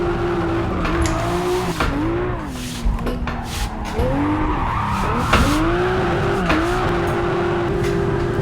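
Drift car in Assetto Corsa sliding around a track, its tires squealing in long wavering screeches over a steady engine drone, with repeated pitch bends as the car transitions between slides; loud and continuous throughout, no speech.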